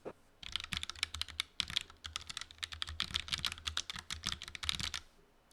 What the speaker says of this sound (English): it's important to be able to hear how the keyboards sound